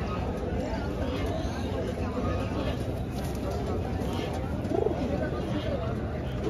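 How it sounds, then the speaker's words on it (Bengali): Pigeons at a busy open-air livestock market coo softly and repeatedly amid a constant murmur of crowd voices and market bustle. "সেখানে কিছু কবুতর দেখতে পাচ্ছি"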